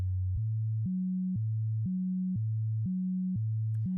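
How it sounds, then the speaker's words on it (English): A controlled bass line from a modular synth in Reaktor plays clean, pure tones in a repeating pattern that alternates between two pitches at a steady rhythm, with no voices. "we got a nice controlled bass line"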